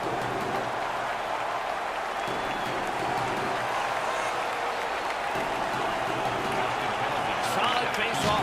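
Ice hockey playoff crowd roaring in a packed arena after a Buffalo player wins a fight against Boston, a steady loud wall of cheering and applause with a commentator talking over it.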